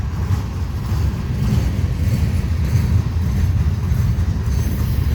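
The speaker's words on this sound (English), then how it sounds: "It's a good train." BNSF manifest freight train rolling past up close, a loud continuous low rumble with rhythmic wheel clatter from the railroad cars, steady for the whole stretch.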